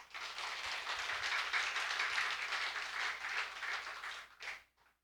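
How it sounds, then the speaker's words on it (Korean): A church congregation at a Sunday morning service claps in encouragement, a steady, full round of applause lasting about four seconds before it trails off into quiet. "격려한 박수 해주세요."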